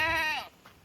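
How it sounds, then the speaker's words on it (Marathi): Goats bleat on a farm in a loud, wavering cry lasting about half a second, followed by a faint quieter call. "शेळ्या लागल्या इकडं आरडायला."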